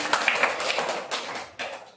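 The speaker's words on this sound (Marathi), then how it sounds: "जोरात टाळ्या सगळ्यांनी" A classroom of children claps during a quiz, a short burst of scattered, uneven applause that fades and then briefly picks up again.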